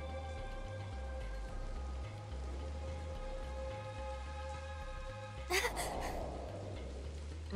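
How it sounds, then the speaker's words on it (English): Rain falls steadily in the video game Soul Hackers 2, a soft continuous hiss under a looping game music track, with a short splash or gasp-like burst near the end. "Just started raining over here."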